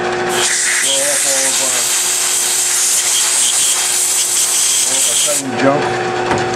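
Compressed air blasts metal cutting chips off a sawn workpiece held in a vise, a loud continuous rushing hiss lasting about five seconds before cutting out, followed by faint shop noise.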